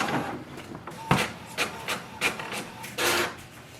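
An HP OfficeJet Pro 8130e printer runs a print job, giving several mechanical whirring and clunking bursts at an irregular pace, fairly close and moderate in level with no talk.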